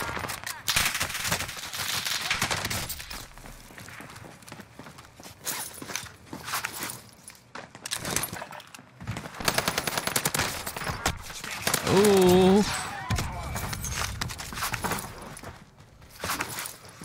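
Gunfire in Call of Duty Warzone on Rebirth Island: bursts of automatic fire and scattered shots with footsteps, loud and close, under occasional talk.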